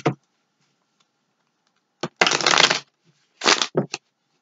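Tarot cards are shuffled in two quick riffling bursts, close and crisp, separated by brief silence and a few light taps.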